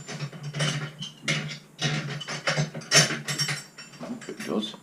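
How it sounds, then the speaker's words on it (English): A metal spanner is fitted onto an ER collet chuck on a small lathe, producing close, irregular bursts of ratcheting, scraping metal clicks separated by short pauses. "I'll even check my spanner, see if it fits that."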